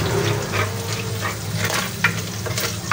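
Garlic frying in a pan for a guisado of mixed vegetables, giving a steady close sizzle with faint stirring and no talk.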